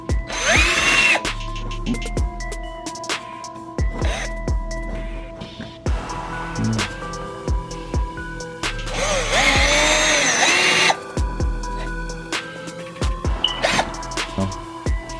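Loud power drill with a 1/4-inch bit drilling a pilot hole while installing a front splitter on a 2010-2012 Mustang GT, whirring in several bursts with pauses between, motor pitch rising and falling as the bit bites, plus clicks and clatter of handling.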